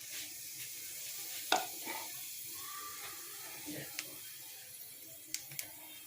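Black cumin (nigella) seeds sizzling in hot oil, a soft faint crackle with a few sharp clicks and spoon taps, under a quiet voice.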